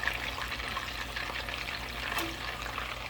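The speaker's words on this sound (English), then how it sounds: "And now I'm going to fry my onion. Turning my sliced onion in." Sliced onion frying in a pan, a steady, moderately loud crackling hiss with a wet, watery texture, continuous throughout with no talking.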